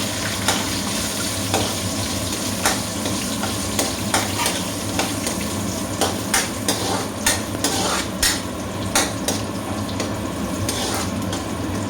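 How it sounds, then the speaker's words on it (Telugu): Cashews and raisins fry in a hot pan until golden, with a loud continuous sizzle. Regular scraping strokes of a stirring spoon run throughout. "ఇది ఇట్లా బాగా గోల్డెన్ కలర్ వచ్చేదాకా దీన్ని ఫ్రై చేసుకోవాలన్నా గోడంబి ద్రాక్షి"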